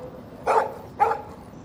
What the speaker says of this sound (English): Stop that! Stop! No barking.